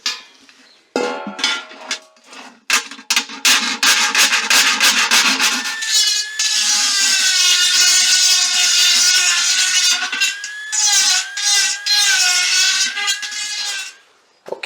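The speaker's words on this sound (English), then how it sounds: "Now it's time for the file." A hand file rasps back and forth on a hole cut into a homemade water filter housing. Short separate strokes at first give way to long continuous scraping, loud and close, with no talking.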